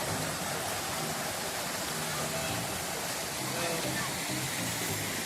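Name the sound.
Duduria waterfall, water overflowing and flowing fast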